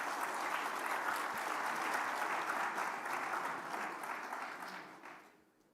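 A congress audience in Dubai breaks into steady, dense applause for a guest, sustained for several seconds before tapering off at the end.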